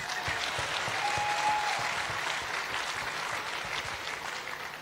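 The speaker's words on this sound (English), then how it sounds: "Clap for me." Audience at a marriage and relationship talk claps steadily, a dense sustained wash of many hands that holds at an even level throughout, moderately loud and without speech over it.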